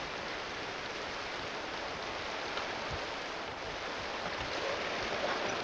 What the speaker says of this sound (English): Rain's coming in through the window.